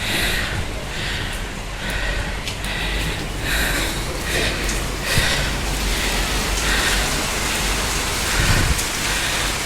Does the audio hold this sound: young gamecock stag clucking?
no